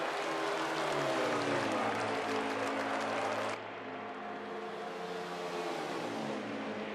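Race cars in NASCAR Heat 5 roar around the Texas oval during an all-star event, a steady dense engine drone with revving swells and a drop in the mix partway through.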